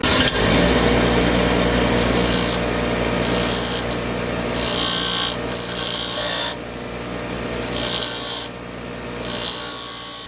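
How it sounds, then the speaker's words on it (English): A table grinder works a car part during the teardown of a K24-swapped Honda EF, giving a loud steady motor hum with repeated bursts of harsh grinding as the metal is pressed against the wheel. "I'm just going to use my table grinder instead"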